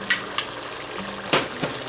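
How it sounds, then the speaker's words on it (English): Tomato paste going into a pot of cooking pork for menudo, a soft steady sizzle with a few brief scrapes and knocks from a spoon. "I'm going to add my tomato paste into my pot"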